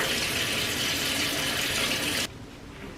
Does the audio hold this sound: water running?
yes